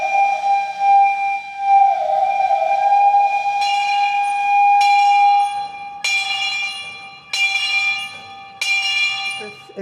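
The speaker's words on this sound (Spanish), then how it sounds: "Sí, ahora va a sonar el silbato." A loud steam locomotive whistle sounds as a long sustained tone, then breaks into four sharp repeated blasts with steady gaps between them.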